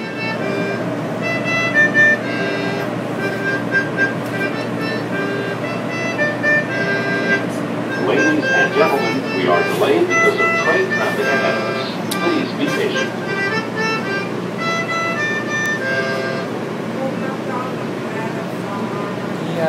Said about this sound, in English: first, we'd like to show you the train ride